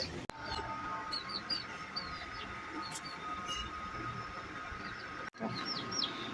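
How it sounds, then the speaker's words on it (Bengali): Newly hatched quail chicks in an incubator give faint, high, scattered peeps over a steady low hum, with a few brief clicks. "কোয়েল পাখির ডিম যে ডিম দিয়েছিলাম ওটা আজকে ফোটা শুরু হয়েছে অনেকগুলো চারটা বাচ্চা ফুটছে"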